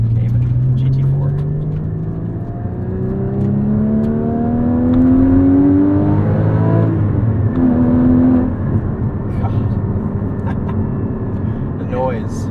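A 2016 Porsche Cayman GT4 engine pulls steadily, its tone rising through the revs, dropping on a shift and rising again as it climbs in pitch. A loud, continuous drone with road rumble underneath, heard from the cabin.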